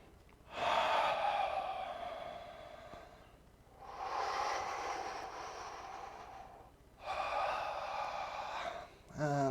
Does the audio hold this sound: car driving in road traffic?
no